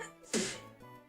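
One short, sharp sneeze bursts out against a quiet background and fades within a fraction of a second.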